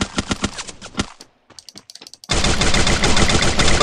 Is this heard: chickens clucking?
no